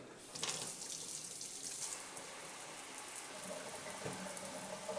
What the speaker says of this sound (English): I'm going to throw some cold water on them